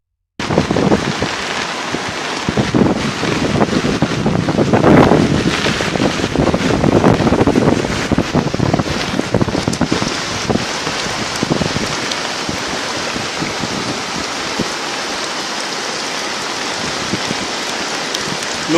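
Heavy rain and rushing floodwater during Tropical Storm Grace in Jamaica, a dense continuous roar that swells for the first several seconds and then settles to a steady wash.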